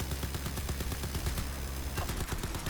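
Rapid automatic turret gunfire in Crysis 3 Remastered, a steady stream of evenly spaced shots firing nonstop at moderate loudness with no talk over it.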